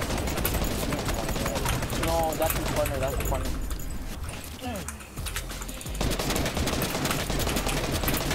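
Gunfire in a Fortnite match, including a sniper shot: a chaotic mix of loud weapon cracks and building clatter, with excited players talking over the fighting throughout.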